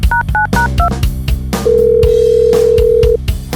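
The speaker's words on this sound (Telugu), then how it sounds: "ఇప్పుడే ఫోన్ చేస్తా" A telephone call tone in a Telugu short film: a few short dialing beeps, then one long steady electronic tone held for about a second and a half, with background music underneath.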